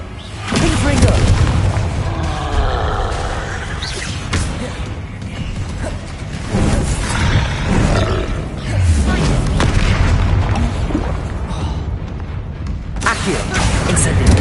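Fire-based Confringo spell blasts in the Hogwarts Legacy video game, repeated heavy booming explosions and crackling impacts layered with combat effects, loud and dense throughout, with a player's voice shouting over them.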